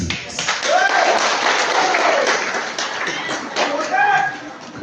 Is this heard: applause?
yes